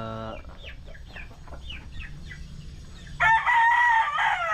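Boston Roundhead chickens in a backyard cluck and chirp in the background, then one rooster gives a loud, close crow near the end.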